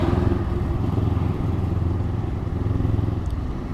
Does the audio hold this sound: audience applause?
no